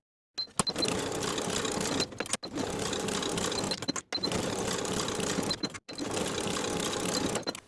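A sewing machine stitches waistband seams in four loud, close bursts, each running about one and a half seconds, separated by brief silent pauses.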